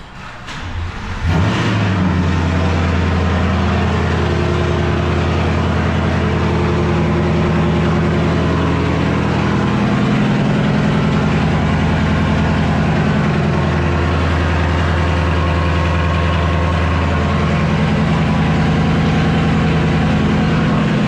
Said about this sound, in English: Let's go ahead and get a cold start first.